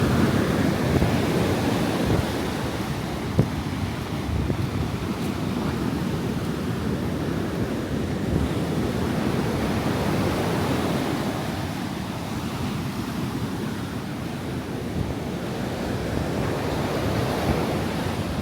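Steady surf rolling in at Kuta Beach, Bali on a Saturday afternoon, a continuous broad wash of breaking waves with some wind noise across the microphone and no talk.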